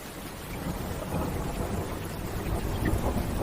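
Gentle rain with distant thunder: a soft, steady hiss of falling rain heard from near an open window or covered porch, with a low rumble swelling faintly underneath, calm and continuous with no voices.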